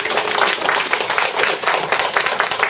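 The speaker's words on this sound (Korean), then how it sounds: "축하의 큰 박수 부탁드립니다." An audience bursts into sustained, dense applause at a poetry book launch, many hands clapping together loudly and evenly throughout, with no talking.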